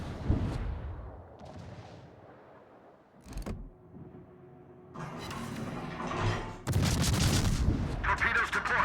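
Naval guns firing in World of Warships, heavy booming salvos separated by quieter gaps, with dense rumbling bursts near the end, loud and close, and voices talking faintly in between.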